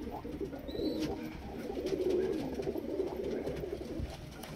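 High-flying and low-flying pigeons in Krishnagar, Nadia coo continuously in low, throaty rolling calls nearby, with no talking and a light chirp early on.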